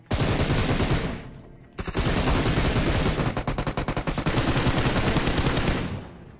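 Rapid automatic gunfire in PUBG Mobile, a loud, continuous burst of shots that breaks off briefly, then resumes as sustained firing with dense, rattling repetition.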